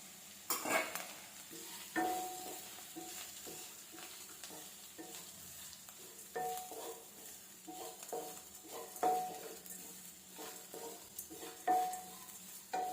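Coconut and other ingredients mixed by hand into millet paniyaram batter, a run of soft wet stirring and squelching strokes with light clinks of a utensil against the bowl, close and quiet with no talk.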